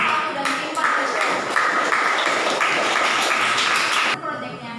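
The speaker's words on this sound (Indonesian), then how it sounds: "berikan tepuk tangan yang meriah kepada tim panas 1 dan tim panas" An audience at a school Pancasila education project presentation applauds the student teams. The dense, steady clapping runs for about four seconds and then cuts off abruptly, with voices mixed into it.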